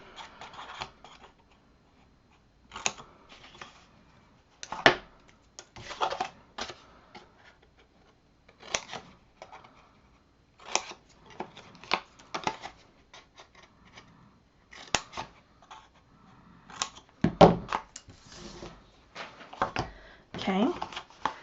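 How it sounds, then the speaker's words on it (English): Scissors cut out paper squares for a craft folio, giving quick crisp snips in irregular bursts with short pauses, close and moderately quiet, with faint speech underneath. "What we're going to do is cut each of those squares out."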